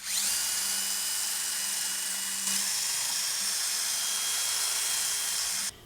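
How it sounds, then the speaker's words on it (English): A small wire wheel spun by a drill scrubs rust off the rear hub of a 2014 Mini Cooper during a brake job, giving a steady, loud, hissing whine for about five and a half seconds before it cuts off abruptly. "I'm just going to use this little wire wheel with the drill."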